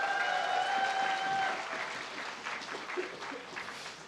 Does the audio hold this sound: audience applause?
yes